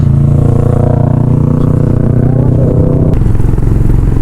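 A motorcycle engine drones loud and steady close by as it rides a mountain road out of Keylong in Ladakh, its pitch shifting slightly partway through.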